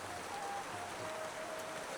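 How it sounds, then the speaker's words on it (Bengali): Heavy downpour in hill country, a dense steady hiss of rain at low, even loudness that continues without a break and without any voices. "মুষলধারে বৃষ্টি আর এমন চা।"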